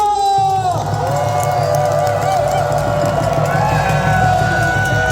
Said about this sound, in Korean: 참여해주신 분들의 힘찬 박수 함성으로 파면 촉구대회를 시작하겠습니다.